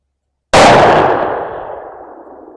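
A single loud, close shot rings out from a Remington 783 rifle chambered in 350 Legend at a shooting range, a sharp crack with a long echoing tail fading over about two seconds after a silent start.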